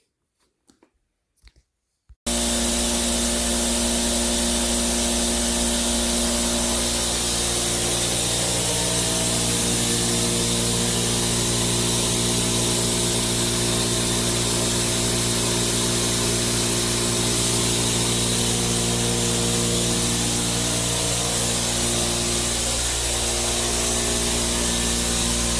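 A Makita MAC5200 Big Bore 3 hp air compressor clicks faintly, then starts and runs for its break-in, settling into a loud, unbroken motor and pump drone that holds steady.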